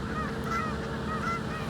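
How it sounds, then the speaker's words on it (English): Geese honk repeatedly and loudly along a palm-lined avenue, a steady chorus of overlapping calls filling the whole stretch with no talk. "Look, even the geese are stoked."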